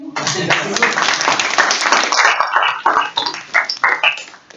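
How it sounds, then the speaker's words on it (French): Audience clapping after a classroom oral presentation on photo and video cameras, uneven and fairly close, with individual claps standing out as it thins toward the end. "On va commencer par les applaudir."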